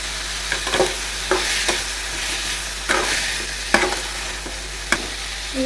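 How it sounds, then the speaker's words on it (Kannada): Chicken keema sizzles in a pan as grated coconut goes in, a steady frying hiss broken by regular scraping stirs of a spatula every second or so, close up with a low hum underneath and no voices. "ಚೆನ್ನಾಗಿ ಫ್ರೈ ಆಯ್ತು ನೋಡಿ, ಫ್ರೈ ಆಗ್ತಾ ಬಂತು"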